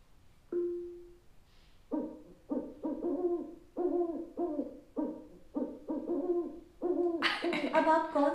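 Owl hoots played from an Alexa smart speaker, a series of about ten rounded, evenly paced calls close by, ending in a brighter, busier burst.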